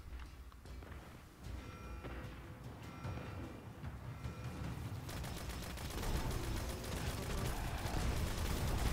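Sustained automatic turret gunfire in Destiny: Rise of Iron, a dense rattling barrage that thickens and grows louder through the second half, with no speech over it.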